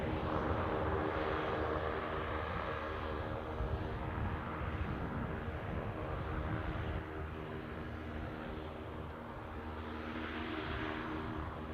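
An Air France airliner at Newcastle airport gives a steady, broad engine roar that holds through and eases slightly near the end, with no talk.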